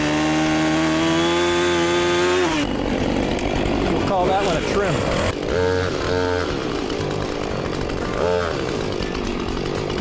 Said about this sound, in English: Go ahead and do a down cut on that one.